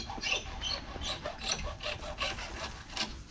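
Bamboo being cut with a hand saw: steady, rhythmic rasping strokes about three per second, close and fairly loud, with no voices.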